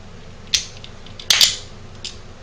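Metal parts of a Rock Island Armory Compact 1911 pistol clicking together during reassembly, two sharp close clicks and a fainter tap as the recoil spring bushing is fitted, with quiet background hiss.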